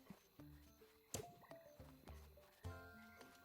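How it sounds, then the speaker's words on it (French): Frogs croak in a gloomy night swamp in The Plucky Squire video game, a close chorus of irregular bursts and clicks popping up one after another over a quiet background. "Les marais sont un peu plus lugubres la nuit, mais le chant des grenouilles, une vraie symphonie."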